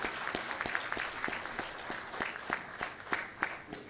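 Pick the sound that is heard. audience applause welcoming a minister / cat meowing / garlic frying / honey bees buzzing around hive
audience applause welcoming a minister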